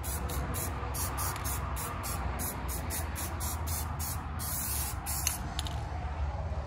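An aerosol can sprays paint onto a rusty brake part from a Mitsubishi Mirage rear drum brake job, a steady close hiss broken into short pulses by a rapid, rhythmic on-off tapping of the nozzle, with no talking.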